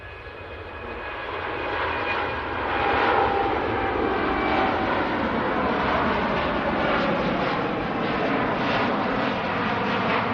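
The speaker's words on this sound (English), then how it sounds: "That, folks, is the most derated takeoff you're going to see of a Dreamliner." A Boeing 787 Dreamliner departing Manchester Airport on a derated takeoff, its jet engines producing a loud, broad roar that swells and sustains throughout, heard from outside with no talking.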